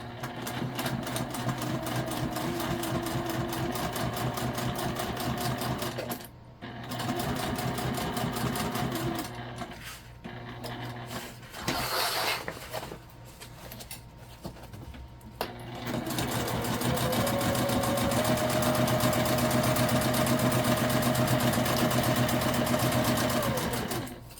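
Sewing machine stitching a tote bag with its lining: a steady mechanical whirr of rapid needle strokes, pausing briefly a few times as the fabric is shifted, then running on in long, close, continuous bursts without speech.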